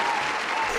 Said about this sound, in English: Can we get a cheer for Smoothie?